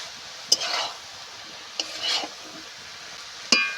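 Snake gourd (chichinga) frying in a pan as its released water cooks off, stirred in three separate passes, each a brief scrape and clatter over a soft background sizzle.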